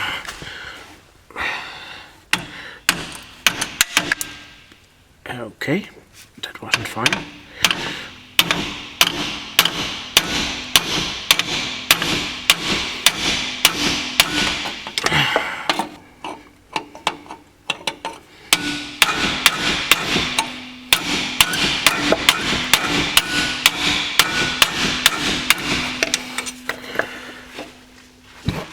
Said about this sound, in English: get to that pin with a pointy driver first, and then whack it with a hammer.